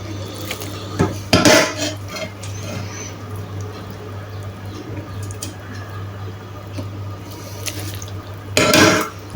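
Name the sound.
straining escarole liquid through a colander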